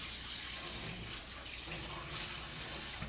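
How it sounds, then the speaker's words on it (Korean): Large Korean dumplings (wang gyoza) rinsed under a running kitchen tap, a steady broadband splash of water pouring continuously and fairly loud, with no talking. "만교자는 그냥 물에 한번 헹궈가지고"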